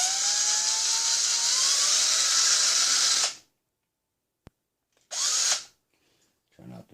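Power drill boring eyelets for a servo holder on a hobby rock crawler build, a loud close whine with rising pitch for about three seconds, then a short second burst after a pause.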